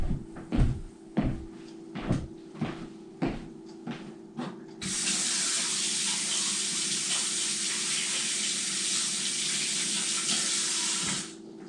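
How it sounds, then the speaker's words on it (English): Several soft clunks and knocks, then a tap turns on and runs steadily, a broad hissing gush of water rinsing something off before shutting off near the end. "I'm going to go rinse this off while we wait for that to come down."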